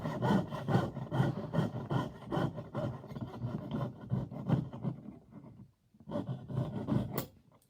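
A saw blade cuts in quick, rasping back-and-forth strokes during a diamond piercing job. The strokes are even and fairly close, with a short pause near the end before the cutting picks up again. Nobody talks.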